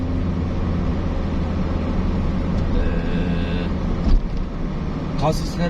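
Cabin noise inside an automatic Hyundai Atos on the move: a steady low engine drone and road rumble that holds throughout, with a brief thump near the end as the small car rides over a bump.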